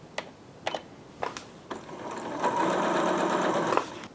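Janome sewing machine sewing a straight stitch: a few separate needle clicks at first, then a steady whirring run of stitching close up.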